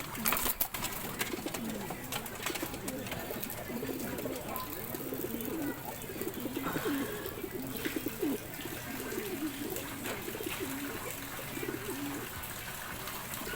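Pigeons coo in a low, continuous murmur, several birds overlapping steadily throughout, with faint background noise and occasional clicks.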